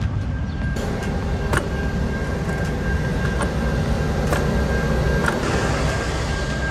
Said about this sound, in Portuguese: o trem passou